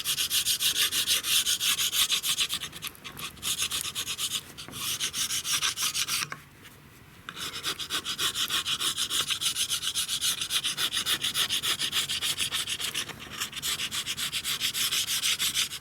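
A scraper grinds in long, rough strokes across the cylinder head of a Hercules diesel engine, loud and close, with a short pause midway before the scraping resumes.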